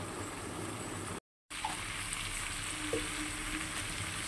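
Crab curry sizzles steadily as it is sautéed in a pan, a close, continuous frying hiss with faint stirring scrapes and one brief dropout, no one speaking.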